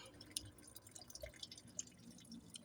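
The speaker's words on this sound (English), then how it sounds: "please remember you do need to put something under there to catch the antifreeze that is coming out" Antifreeze drips from a truck during a thermostat replacement, a series of faint, irregular small drops landing in a catch container, close by and without talk.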